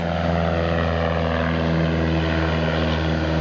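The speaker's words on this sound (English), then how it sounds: "See one of the planes taking off." A propeller airplane takes off at an airfield near red barns and a clubhouse, its engine a loud, steady drone that holds for several seconds with no talk over it.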